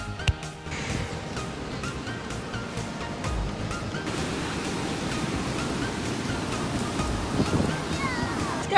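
Ocean waves wash onto a beach in a steady broadband roar of surf, loud and close, with a little wind noise mixed in and no break over the whole stretch.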